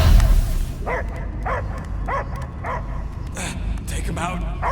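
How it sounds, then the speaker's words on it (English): Dog barking in the video game Guardians of the Galaxy, a run of short yips and barks in steady succession, fairly close, over a low rumbling game soundscape. "I hear only barking."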